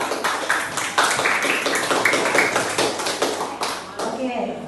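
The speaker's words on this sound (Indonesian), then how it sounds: "Dikasih tepuk tangan untuk kelompok IPA prediksi dan kelompok" Classroom applause for student groups: a dense burst of many hands clapping and tapping for several seconds, fairly loud and close, with voices mixed in.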